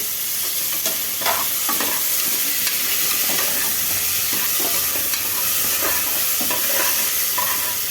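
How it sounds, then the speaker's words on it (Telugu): Chopped tomatoes sizzle loudly in hot oil for tomato rice, a continuous close frying hiss broken by repeated scraping stirs of the spoon against the pan, with no talking. "ఇప్పుడు టమాటాలు వేసుకోవాలండి"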